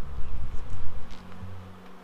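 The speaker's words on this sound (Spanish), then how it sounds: "Abejas que están llegando a la nueva colmena." Honeybees arrive at a new hive, a close, continuous buzzing hum with wingbeat drones that swell and fade as individual bees pass near.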